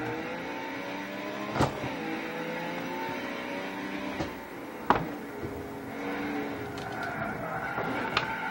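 Group B rally cars, including a Peugeot 205 T16, race in a driving video game, with a continuous engine drone that rises and falls through gear changes, punctuated by several sharp tire squeals and skids.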